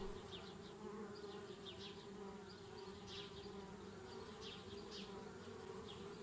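Bees buzz steadily through a video game scene, a dense insect drone with brief louder swells of individual bees passing close, running continuously at a moderate level with no talk.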